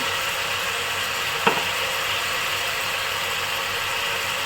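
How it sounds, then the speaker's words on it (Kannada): Goat tripe (boti) fries in a pan with coriander powder, making a steady, loud, even sizzle. One brief knock or stir stands out near the middle, and no one talks. "ಇದು ಸ್ವಲ್ಪ ಫ್ರೈ ಮಾಡ್ಕೊಳ್ಳೋಣ ಚೆನ್ನಾಗಿ"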